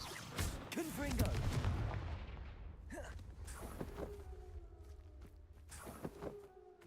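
Confringo fire spell blasts in Hogwarts Legacy sound as several sharp explosive bursts amid other combat effects, with a voice calling out spells now and then.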